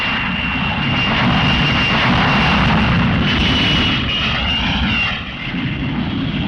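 Red Arrows aerobatic team jets roaring overhead in a loud, sustained broadband rush, swelling and then easing as they pass, with no talk.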